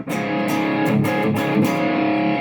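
Electric guitar played through a distortion patch on a BOSS GT-1000 multi-effects unit, with thick boosted mids and reverb; dense sustained chords with several rhythmic attacks, loud and alone.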